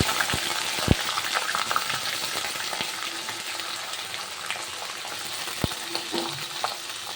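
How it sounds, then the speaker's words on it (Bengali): Small potato pieces fry in hot oil for a ghugni made with peas, giving a steady, close crackling sizzle broken by occasional sharp knocks of a spoon against the pan. "ওই তেলটার মধ্যে দিয়ে দিলাম ছোট ছোট টুকরো করে নেওয়া আলুগুলো"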